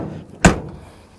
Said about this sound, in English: Doors you gotta slam. Typical for the age.